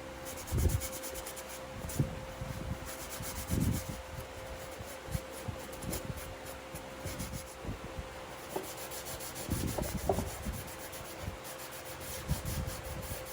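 Soft, steady rubbing and scrubbing strokes come from dark wax being worked onto painted vintage furniture, heard close and fairly quiet, with a faint background hum and no talking.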